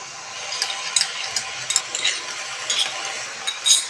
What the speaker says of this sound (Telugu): మొత్తం మళ్ళీ ఇవన్నీ కూడా ఇంగ్రీడియంట్స్ అన్నీ కలిసేలాగా మళ్ళీ కలిపేసుకోవాలన్నమాట